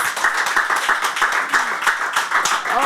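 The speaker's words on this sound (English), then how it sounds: "One more round of applause" A crowd at a talk gives a round of applause: dense, loud and continuous clapping from many hands, with no voices over it.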